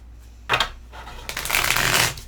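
Tarot cards riffle and shuffle in two bursts, a short flutter followed by a longer, steady papery rush, close by with no talking.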